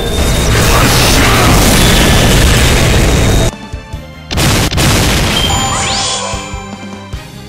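A heavy cannon blast in the video game Fate/Grand Order rumbles loudly for several seconds, cuts off abruptly, then returns with crashing booms and metallic clanks that trail away.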